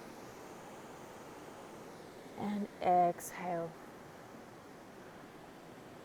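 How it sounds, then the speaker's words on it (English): Steady running water hisses nearby throughout an outdoor hip and glute yoga flow, while a calm voice briefly speaks a cue over the constant wash. "Hopefully you can hear me okay with the running water"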